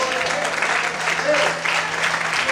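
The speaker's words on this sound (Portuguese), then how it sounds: "Quantos conseguem glorificar a Deus e aplaudir ao Senhor bem forte nessa noite?" Church congregation applauding during an evening worship service, a steady dense wash of clapping sustained throughout, with a faint hum and some voices mixed in.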